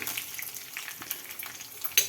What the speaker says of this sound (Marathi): ह्याच फोडणीत कढीपत्ता व मिरच्या म्हणजेच सगळी फोडणी परत एकदा आपण परतून घेणार आहोत